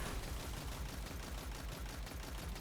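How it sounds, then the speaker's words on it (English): Sustained machine gun fire in Destiny 2's Presage mission, a steady rapid rattle of shots that runs unbroken and loud for the whole stretch with no talking. "we're just gonna shoot him with the machine gun"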